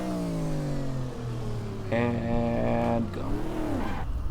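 A Corvette L76 roadster engine in the GTR2 racing game at Pacific Raceways drones as its pitch sweeps down, then blips into a sharp rev and rises again, close and steady, with a brief spoken phrase over it.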